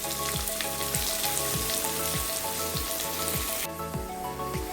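Finely chopped onions fry in a hot pan with a steady, dense sizzle and crackle, close and continuous throughout, with faint rhythmic tapping underneath and no voices.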